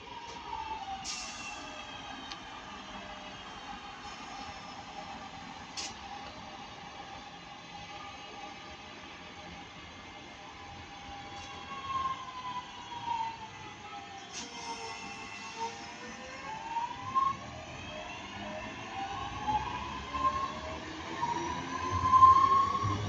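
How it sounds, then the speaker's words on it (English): A British Rail Class 323 electric train, unit 323227, passes Ardwick on its way to Manchester Piccadilly, a rising whine and rumble of the electric motors growing louder toward the end, heard from trackside with no talk. "this is 323227 going to Manchester Piccadilly"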